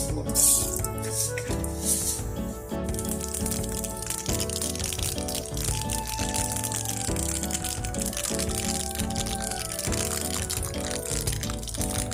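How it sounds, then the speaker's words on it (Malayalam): Dense crackling and popping of mustard seeds in hot oil, steady throughout, with background music playing over it. "കടുക് പൊട്ടി കഴിഞ്ഞിട്ടുണ്ട്"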